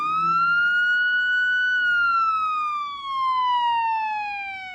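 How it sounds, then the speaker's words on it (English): Police siren wails alone in one long, smooth tone that rises slightly, then slowly falls in pitch, loud and close with rich overtones and no voices. "Let's take a simple example of a police siren."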